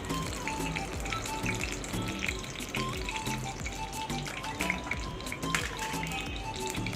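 Soybean oil pours into a hot cooking pan, producing a dense, steady sizzling hiss with crackling spatter throughout, close and loud with no talk.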